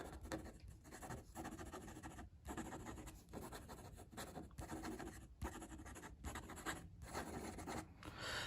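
A Waterman Expert 3 fountain pen with a gold nib writes quickly across paper, giving a soft, close scratching that comes in short strokes with brief gaps between words. No voices.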